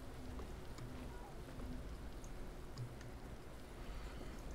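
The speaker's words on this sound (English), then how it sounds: "And it's raining again." Rain falling in a zombie survival game, a steady soft hiss of drops spread evenly throughout, quiet and continuous with a faint low rumble beneath and no clear talking.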